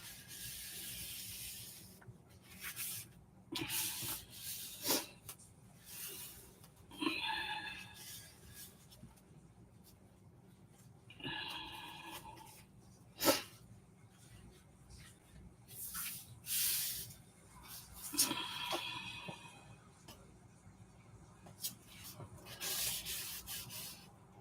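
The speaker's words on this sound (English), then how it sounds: "trim that extra piece off" Extra paper is trimmed off a scrapbook page, giving soft, close scraping and sliding cut sounds with paper rustles in short, faint bursts separated by quiet pauses.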